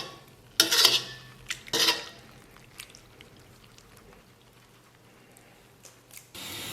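Cooked pork skin tipped from a container into a pot, two loud bursts of clattering and sloshing close by, then quieter scraping and knocks as stray pieces are scooped out.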